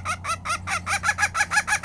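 A tiny Serama hen clucks in a rapid run of about ten evenly spaced, close, clear clucks, with a faint low hum underneath.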